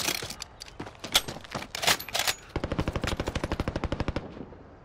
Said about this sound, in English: I got shooting coming from west